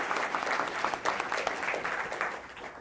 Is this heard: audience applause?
yes